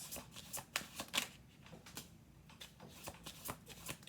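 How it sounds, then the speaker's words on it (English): Tarot cards are riffled and shuffled quietly, a series of soft flicking bursts close by with short pauses between them. "do 2 more shuffles"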